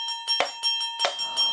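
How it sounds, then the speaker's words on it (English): A bright bell rings repeatedly in a steady rhythm, several clear metallic strikes with ringing overtones, close and moderately loud. "Bang, bong, went the bell around his neck."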